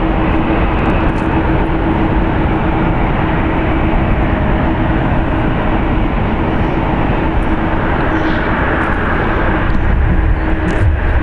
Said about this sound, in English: That was a Boeing 787-9 Dreamliner.